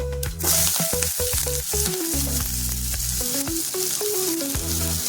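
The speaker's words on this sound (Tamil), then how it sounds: "வெங்காயம் நல்லா வதங்கட்டும்." Onions with chopped green chillies sizzle and crackle steadily in a hot pan for snake gourd usili, a bright continuous frying hiss with occasional stirring scrapes.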